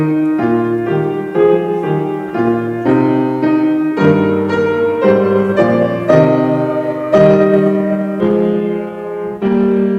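Voices sing together in harmony, several parts moving through a slow hymn-like line, steady and fairly loud with no talking.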